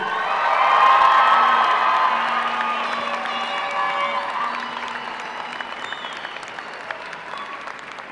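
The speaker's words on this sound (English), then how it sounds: "Can we give them another round of applause, please?" A high school graduation crowd applauds and cheers, with loud clapping and whoops peaking early and then gradually tapering off over several seconds.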